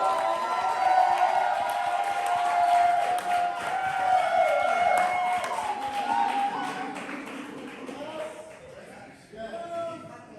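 Poetry slam audience at the ATL Spring Fling applauding and cheering for the next poet, a sustained wash of clapping and whoops with a host's voice over it, tapering off near the end.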